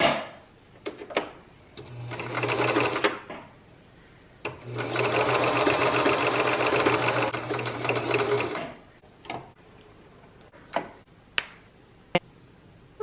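Sewing machine stitching a reusable grocery bag, two close bursts of rapid mechanical whirring and ticking separated by a pause, with scattered clicks and handling sounds before and after.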